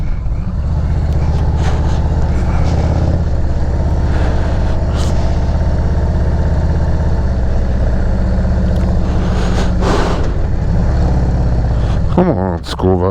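Loud, steady engine rumble from a 2023 Harley-Davidson Road Glide with a Screamin Eagle Stage 3 119 engine, ridden along the Ohio River north of Pittsburgh, droning continuously near the microphone with brief rising whines near the end.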